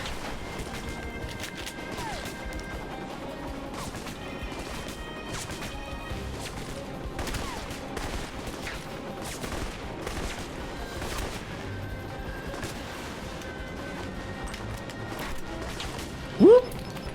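Gunfire and explosions in the video game Alpha Protocol, a rocket launcher among the weapons, give rapid bursts of shots and crashes through a dense, busy mix, fairly constant at moderate level.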